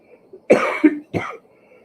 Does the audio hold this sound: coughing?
yes